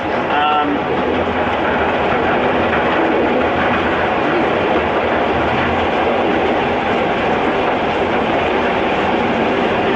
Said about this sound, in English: You certainly have a very pretty railway, David.